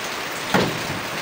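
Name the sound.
rain falling on a house with leaky gutters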